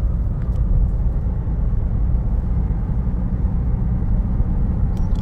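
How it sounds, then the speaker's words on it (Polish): Low, steady road rumble and engine drone from a Citroen C5 Tourer estate with the 2.0 BlueHDi 150 hp diesel under acceleration, heard from inside the cabin as an even, continuous hum without talk. "zrobimy manewr przyspieszania"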